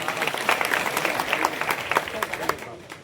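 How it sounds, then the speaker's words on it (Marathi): A crowd at a village temple gathering in Brahmagaon applauds in a dense, continuous wash of clapping that fades near the end, with voices mixed in underneath. "जोरते टाळी वाजव"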